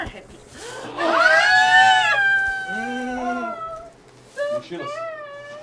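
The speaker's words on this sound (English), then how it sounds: "Cats are happy." Cats meowing at a furry convention in Brazil, a drawn-out whining meow followed by several shorter rising cries, close and fairly loud over a quiet room.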